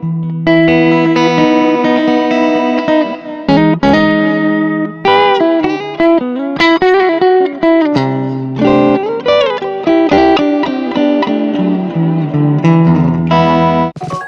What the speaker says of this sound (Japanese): 音の余韻っていうか響きはやっぱりその EMT140 プレートリバーブ感は感じるんだけれども、それでいてトレモロっていうね。